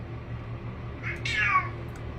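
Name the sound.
cat meowing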